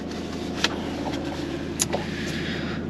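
A car engine, kept running briefly to check the oil level after the oil warning light came on, idles as a steady, even low hum with a couple of faint clicks over it.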